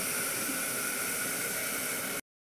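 A mixer grinder whirs loud and steady as it grinds dry-roasted garlic, green chili and black cumin into paste, then cuts off abruptly near the end.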